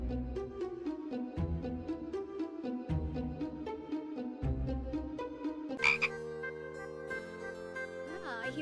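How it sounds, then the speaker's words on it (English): A frog in the Discworld video game croaks in a steady rhythmic series of loud, raspy pulses for about six seconds, then gives way to tonal game music and chimes. "I hear a frog."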